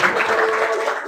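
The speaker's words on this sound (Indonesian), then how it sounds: "tepuk tangan ya" Classroom applause for a student group, a brief burst of dense clapping with voices mixed in.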